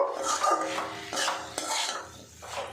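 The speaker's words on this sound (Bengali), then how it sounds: "ধনে পাতা দিয়েছি একটু মিশিয়ে নেব" Chopped coriander stirred into a hot beans curry in a pan, uneven scraping and clinking of a spoon against the metal in short bursts, fairly quiet with a faint sizzle underneath.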